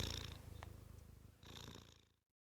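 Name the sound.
cat purring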